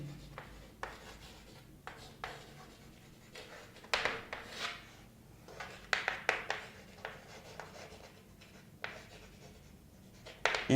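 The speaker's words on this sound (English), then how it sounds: "I will draw it on the board." Chalk or marker drawing on a classroom board during a science lesson on anode rays, a run of scratchy strokes and taps in an irregular rhythm, close and clear with no talking.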